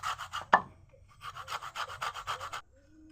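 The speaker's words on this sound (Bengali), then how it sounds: "উপরের যে হলুদ খোসাটা, এটা আমি গ্রেট করে নিব।" Orange peel is zested on a hand grater, making quick rhythmic rasping strokes in short bursts, close and fairly soft, with a sharp knock between them.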